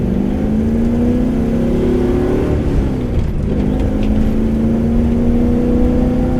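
A 1969 AMC Rambler wagon hot rod's engine revs hard while climbing a hill, a steady loud drone whose pitch rises, dips briefly near the middle, then climbs again, heard from inside the car.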